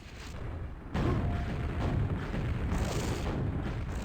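A rocket explosion in the Quakeworld duel game lands as a sudden heavy boom, followed by a sustained dense rumble of game action at steady loudness.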